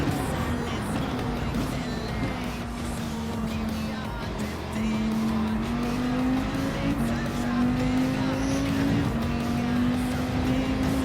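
Group 3 race car lapping Daytona in a racing game, a sustained engine drone that dips then climbs in pitch as it accelerates out of a turn, loud and continuous with faint tire noise.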